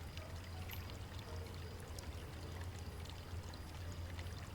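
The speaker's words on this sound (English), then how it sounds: "I filled the bottle with water from the fountain." In the video game Foolish Mortals, water from a fountain pours steadily into a bottle, a soft continuous splashing stream over a low rumbling background hum.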